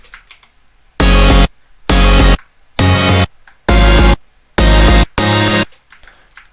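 Six loud, bright synth chords or stabs from a breakcore production, each about half a second long and spaced roughly evenly. They hit hard and full-bodied, with quiet gaps between them.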